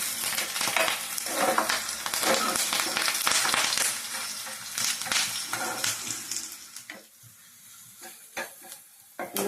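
Onion tempering frying in a pan, with a loud, busy sizzle and crackle while stirring, then fading to a quieter hiss with scattered pops and a few pan clinks toward the end.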